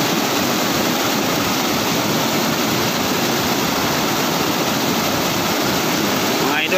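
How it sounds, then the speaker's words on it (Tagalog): River water gushes hard through a bamboo fish trap where water from the higher side pours down, a loud, steady, broadband roar with no break. "Malakas yung bagsak kasi mataas pa yung tubig sa kabila."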